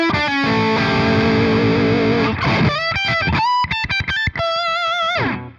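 An electric guitar with P90 pickups, a GV Wood, plays through an ENGL E650 amp model with heavy distortion: sustained chords ring out, then tight chugging staccato riffs with abrupt stops, loud and close.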